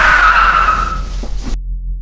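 A car brakes hard in an emergency stop, tires skidding with a loud, close screech that holds steady, then drops in pitch and cuts off sharply after about a second and a half.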